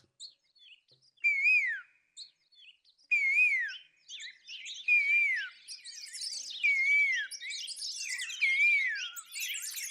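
A human voice whistles an imitation of an Asian koel call, rising swoops repeated about five times, each more insistent, ending in rapid overlapping calls.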